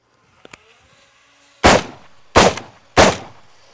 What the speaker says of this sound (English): let's try it with a rifle real quick